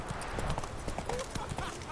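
Hooves of the horse Roach clop in The Witcher 3 video game, a quick run of close hoofbeats heard faintly under game dialogue and background noise.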